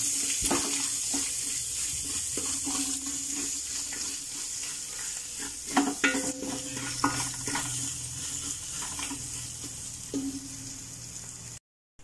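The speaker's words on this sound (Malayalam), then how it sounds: "ഇഞ്ചി വെളുത്തുള്ളി പേസ്റ്റും കൂടി അതിലോട്ടിട്ട് കൊടുക്കണം എന്നിട്ട് നല്ലപോലെ ഒന്ന് ഇളക്കിയെടുക്കണം" Ginger garlic paste stirred in a hot pan for a mutton curry, a soft sizzle under repeated spatula scrapes and clinks against the pan, with no voices.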